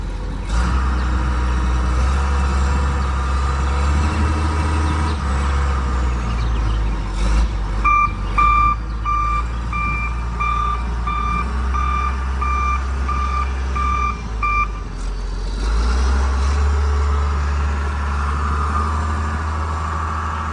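Repeated reversing beeps sound from a yellow loader stacking 24 hay bales tight for a 48-foot trailer, an even run of tones over a loud, steady diesel engine rumble with no talk.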